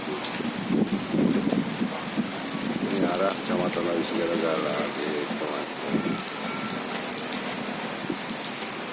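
Heavy rain and strong wind beside a main road under overcast skies make a steady rushing wash throughout, with someone talking over it.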